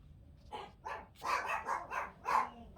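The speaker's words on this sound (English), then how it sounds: "Now you're hearing my dogs." Dogs bark in a quick run of about six loud yaps at moderate distance, with brief gaps between them.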